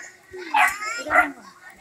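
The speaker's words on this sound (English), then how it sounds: "And a damn dog." A dog barks twice during a family outing at a mountain resort in the Philippines, two close yelping barks about half a second apart amid background voices.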